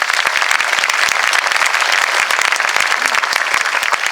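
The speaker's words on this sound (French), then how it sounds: "voilà, on peut les applaudir." An audience at an orchestra concert applauds the four trumpet players, a loud, dense burst of many hands clapping in fast, even patter throughout.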